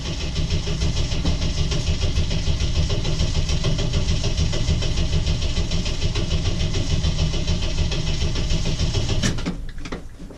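A 1981 Jeep CJ7 engine runs loud and steady with a dense, even rumble close by, cutting off abruptly near the end.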